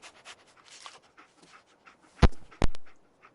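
Dogmeat, the dog companion in the Fallout 4 video game, pants in quick soft breaths up close, broken by two sharp loud thumps near the end.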